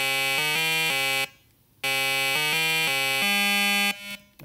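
An Apple II computer playing a ROM music demo: harsh, buzzy square-wave tones step through short melodic phrases, pause briefly, then repeat, loud and alone with no talking.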